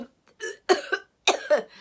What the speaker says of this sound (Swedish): så måste man hosta upp det